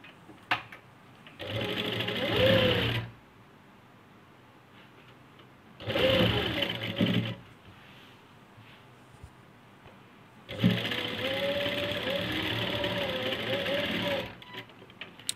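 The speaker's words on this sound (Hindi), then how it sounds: "आप निशान लगा के एक सिलाई लगा लें" A sewing machine stitches a seam on a double-layer frock, running in three distinct bursts of steady, close mechanical whirring separated by quiet pauses.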